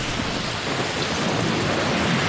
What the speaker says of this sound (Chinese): 这感觉这雨砸着都疼。